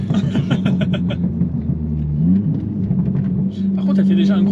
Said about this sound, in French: Par contre elle fait déjà un gros bruit de turbo avec le kata, des kata